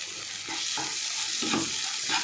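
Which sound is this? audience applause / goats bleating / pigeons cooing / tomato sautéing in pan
tomato sautéing in pan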